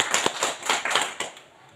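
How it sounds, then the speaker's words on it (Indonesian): A classroom audience claps in a burst of applause lasting just over a second before it fades out, with dense overlapping hand claps at moderate level. "kita bisa beri aplaus"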